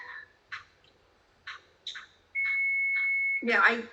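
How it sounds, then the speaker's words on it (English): A timer alarm gives a steady, piercing electronic tone for about a second, breaking into a quiet indoor conversation between short bursts of speech. "let me turn off my timer in a sec."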